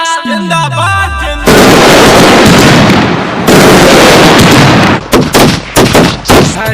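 Firecrackers burst within a Diwali song: a descending whistle then dense, loud crackling volleys, a pause, and a final run of sharp separate bangs.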